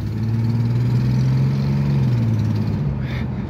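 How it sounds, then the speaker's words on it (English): An old Chevrolet Blazer engine idles with a misfire and a rich-running mixture, giving a steady, close, low rumble throughout with no talking over it. "The engine's got a miss in it."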